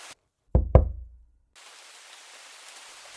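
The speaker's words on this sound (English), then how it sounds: "And then came the knock." Two sharp, close knocks strike a door in quick succession, followed by soft, steady rain hiss in the background.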